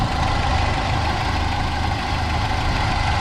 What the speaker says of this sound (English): So it's making a bit of a whirring noise, but I guess alternators do that.